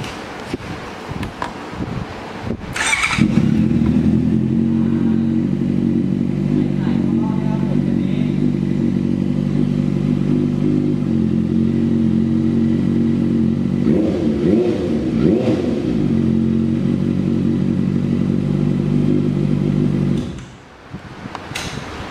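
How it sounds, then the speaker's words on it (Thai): Honda CB650F motorcycle from 2016 with an aftermarket exhaust, idling loudly and steadily up close for about seventeen seconds, with a brief rev partway through before the engine cuts off. "เราฟังเสียงเครื่องยนต์กันนิดนึงครับ"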